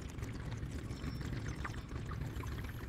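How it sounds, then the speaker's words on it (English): A slushie being poured in the video game Job Simulator, heard as a steady, quiet liquid pour lasting a few seconds with no talk over it. "Matter of fact, let me pour some of that out."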